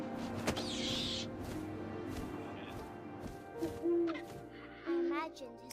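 Owl hooting in the video game What Remains of Edith Finch, several soft hoots near the end, mixed with ambient game music, bird-like chirps and a faint voice.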